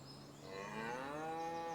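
Cows mooing in the Farming Simulator 25 video game, set on a Normandy farm; a long, drawn-out low moo that swells partway through and holds steady, heard alone with no talk over it.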